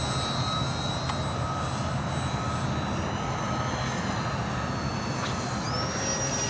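A Piper Cherokee model airplane engine holds a steady half-throttle drone, a constant buzzing hum with a faint whine that shifts slightly in pitch near the end.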